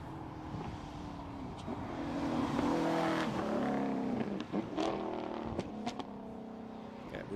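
Ginetta race cars work through the Anglesey hairpin, engines revving and dropping as they brake and accelerate away, heard from trackside with faint talk in the background.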